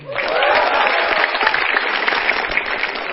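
A stand-up comedy audience bursts into loud, dense applause for comedian Jui, a close, steady wash of clapping that lasts the whole stretch with a faint voice underneath.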